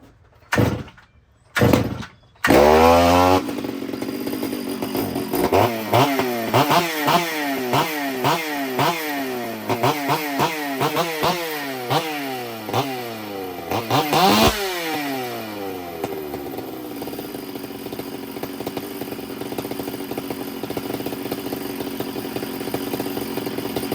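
A rebuilt and ported Stihl chainsaw engine starts after a few sharp pull attempts, then revs up and down repeatedly with strong rising and falling whines before settling into a steady, loud idle nearby.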